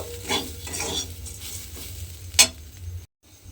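Bottle gourd peel stirred and fried in a pan, giving a steady sizzle with scraping stirs, one sharp utensil clink near the end, then a brief silence.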